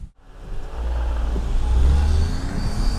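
A Renault Captur drives on a test course, its engine rumbling low and swelling as it accelerates close to the microphone, with road and wind noise steady underneath.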